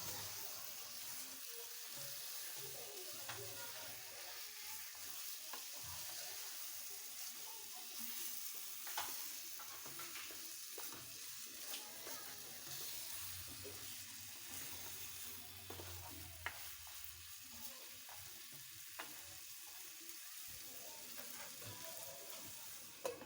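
Beef cooked with satkora citrus sizzles faintly and steadily in a pan, with soft, occasional stirring taps under a broad hiss.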